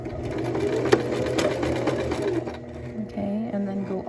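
A sewing machine runs steadily, stitching fabric forward and back along a marked line on a beginner's shirt, a continuous close mechanical whir with speech over it throughout.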